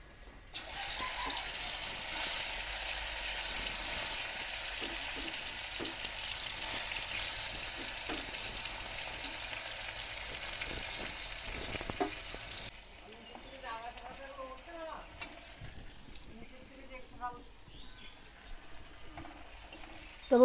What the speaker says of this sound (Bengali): এবার আমি কাঁকরোল ভেজে নেব।